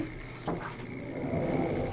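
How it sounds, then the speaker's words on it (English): A sliding door in a shipping container home opens with a brief knock, then a soft rolling scrape as it glides along its track, close and fairly quiet over a low room hum. "It's a sliding door, and there's a washer dryer."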